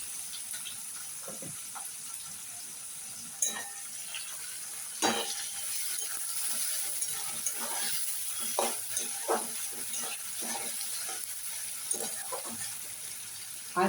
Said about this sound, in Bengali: আমি এখানে পেঁয়াজ আর কাঁচা লঙ্কা সব একসাথে দিয়ে দিলাম